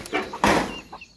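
Chickens clucking close by in a backyard coop, a few short bursts across a second with a louder burst in the middle and a brief rustle or knock among them.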